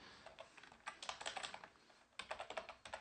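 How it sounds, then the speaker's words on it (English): Rapid typing on a computer keyboard, with steady clusters of crisp keystrokes in two bursts separated by a short pause, close and clear, with no speech. "just go ahead and just type this in"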